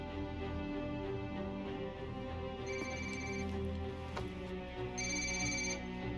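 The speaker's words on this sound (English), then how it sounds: "You're going to want to answer your phone, Officer Bowman." A phone rings in the video game Ghost Recon Wildlands, an electronic ringtone with repeated trilling bursts over a steady musical background hum, fairly quiet and with no talk over it.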